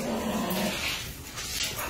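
Three-legged pitbull playing with French bulldogs indoors, giving a low continuous growl with a few yips mixed in, close and fairly loud, with no talking.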